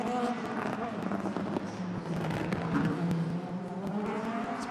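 DTM Mercedes race cars run an exhibition inside an arena, engines droning and revving at moderate distance beneath a commentator talking over the noise.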